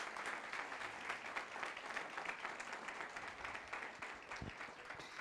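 A church congregation applauds steadily for several seconds, a dense, continuous wash of many hands clapping with no break.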